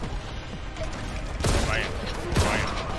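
Shotgun blasts in Warhammer 40k Boltgun, two sharp bursts about a second apart over steady game noise and background action.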